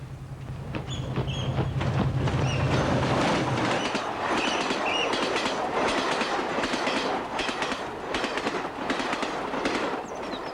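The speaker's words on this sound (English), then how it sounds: "the trains run regularly here in both directions from morning to evening" A train rumbles past with rhythmic clickety-clack of wheels on rails and occasional metallic squeal, steady and fairly close throughout.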